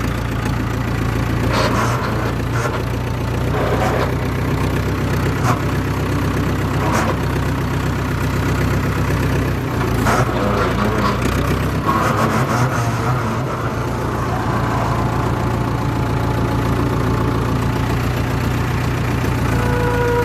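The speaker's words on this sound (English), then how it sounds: "I might go ahead and do some bush hogging, make myself useful while I'm waiting." A tractor engine running while bush hogging, a steady low diesel drone with a knocking idle rumble that holds even and close throughout, with a few brief clanks over it.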